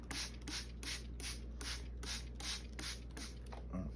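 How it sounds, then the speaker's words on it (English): A spray bottle mists water onto a brand-new watercolor palette in about eleven quick, evenly paced hissing squirts, close and soft, with no talking. "I'm gonna spray it some more."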